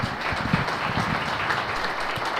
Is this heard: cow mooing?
no